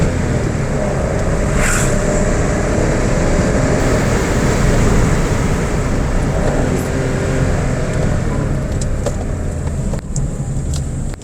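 A 2022 Toyota Raize engine revs under heel-and-toe rev matching while driving, a loud, steady in-cabin engine and road drone that rises and holds without pause.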